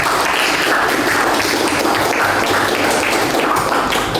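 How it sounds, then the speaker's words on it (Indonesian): An audience at a capital markets and portfolio management lecture applauds after a discussion session, a steady, dense wash of clapping that holds loud and even throughout. "Tepuk tangan sekali."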